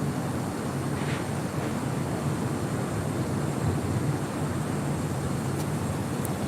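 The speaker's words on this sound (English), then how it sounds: "we're going to see a little turn and burn action here with the Emirates A380" Emirates Airbus A380 taxiing and turning at LAX, a steady broad low engine rumble with wind noise, continuous and moderately distant, no talk.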